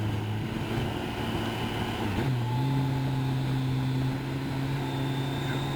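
An engine drones steadily during a ride out on a hilly road, its pitch dropping and then settling at a higher hum after a downshift midway, with continuous wind and road noise around it.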